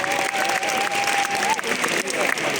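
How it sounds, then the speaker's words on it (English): An audience applauds at the opening ceremony of a FIRST Tech Challenge UK robotics championship, with bursts of clapping under a sustained vocal whoop or cheer. "Let's give a massive round of applause to Gemma."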